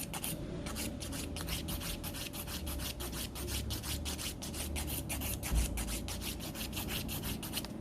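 Filing the edge of an artificial nail tip to smooth it flush with the natural nail: a steady, close scratchy rasp with fast, even back-and-forth strokes running the whole time, no talking.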